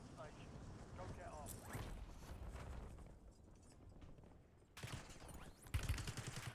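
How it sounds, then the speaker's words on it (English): Bursts of video game gunfire crackle through a busy multiplayer match, sharp volleys overlapping with in-game clatter and mixed background noise, with louder shots near the end. "They're shooting me up here."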